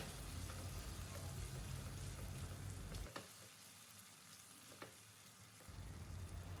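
Masala base seasoned with salt and a pinch of sugar is stirred in a pan over the heat, a faint continuous sizzle with soft scraping strokes that briefly drop away before the frying hiss returns.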